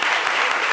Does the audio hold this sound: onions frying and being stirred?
no